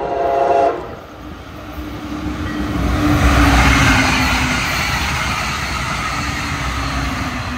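A Brightline train rumbles past with a steady roar of wheels on rails, swelling and then fading, with a brief horn-like tone at the start.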